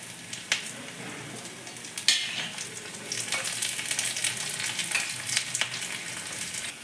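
Garlic, curry leaves and dried red chillies fry in hot oil with a steady, broad sizzle and crackle, a few sharper pops and spatters breaking through as they are stirred, close up with no talking.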